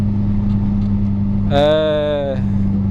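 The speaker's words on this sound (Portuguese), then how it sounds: "Esse turbinho, cara, que tem aqui no carro, eu vou mandar tirar isso aqui" Car turbo whistling while driving on the road in a small Renault Clio, a sharp whine rising over the steady low engine drone for about a second, loud and close inside the cabin.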